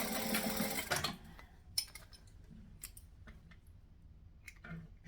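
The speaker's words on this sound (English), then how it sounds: "And then we just sew over. So we're going to stitch and we're going to back stitch." Sewing machine stitching and back stitching a tote bag seam: a brief, close, whirring run of rapid stitches that stops after about a second, followed by scattered faint ticks and handling clicks.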